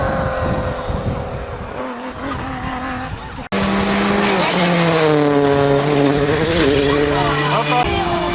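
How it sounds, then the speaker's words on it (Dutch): An Alfa Romeo GTV racing past in a rally, a loud engine roar with shifting pitch that rises sharply as the car closes in, with a talking voice and other loud engine sound before it. "Alfa GTV."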